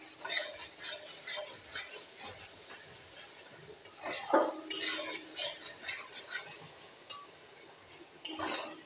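Masala cooks in a pan while a metal spoon stirs it with clinks and scrapes against the pan's sides, over a faint sizzle and a few louder knocks.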